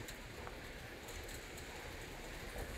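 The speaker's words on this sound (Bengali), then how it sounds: "রোদের মধ্যে কত সুন্দর বৃষ্টি হচ্ছে" Rain falls steadily outdoors under sunshine in Saudi Arabia, a soft continuous hiss of drops on surfaces with no breaks and no talk.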